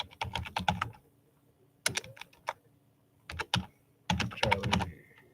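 Bursts of rapid clicking on a computer keyboard come in three clusters separated by brief pauses, close and crisp with no talking.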